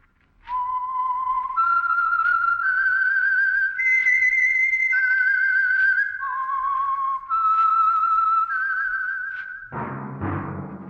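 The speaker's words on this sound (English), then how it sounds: "That whistle is your signal for the Signal Oil Program, The Whistler." The whistled theme signal of The Whistler radio program rings out as a solo melody of sustained, clear whistled notes rising and falling for about ten seconds, closing as another sound cuts in.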